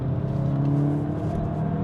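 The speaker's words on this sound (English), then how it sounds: "Again, we're at around about first gear, no traction light, controlling the throttle," A VW Golf GTI Mk8.5 engine revs steadily under throttle in first gear, a loud, close, continuous drone with a rough low rumble and a faint whirring overtone, with no voices.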